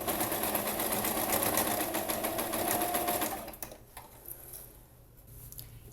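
A sewing machine runs steadily while stitching the folded seam of a fabric placemat, close and rhythmic for about three seconds, then stops, leaving faint handling noises.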